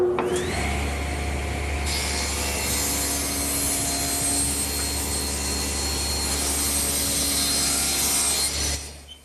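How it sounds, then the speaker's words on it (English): A table saw rips through a wooden board while building a sandbox, its steady loud whine and broadband cutting noise running continuously for about nine seconds before spinning down at the end. "I have to remove the thickness of a board off of one of the side pieces."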